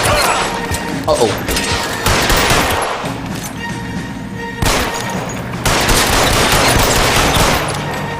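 Gunfire in a shootout from the LA Noire video game: dense, rattling bursts of shots crash over a loud, busy game mix, with a brief break before the firing picks up again.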